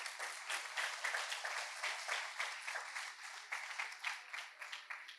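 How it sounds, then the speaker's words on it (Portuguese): A church congregation applauds in a lively, rhythmic burst of clapping that pulses steadily and stays fairly thin and bright. No voices rise above it. "Dá uma salva de palmas para Jesus, igreja."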